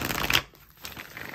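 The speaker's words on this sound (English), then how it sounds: "I did not like that shuffle." Tarot cards being shuffled in a quick riffle, a soft rapid flutter followed by a brief pause and more quiet card handling, close by.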